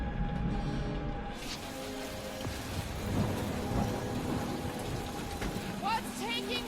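Steady, heavy rain with rolling thunder in Marvel's Guardians of the Galaxy on PS5, a dense wash of downpour under low rumbles, with a few brief tonal game sounds near the end.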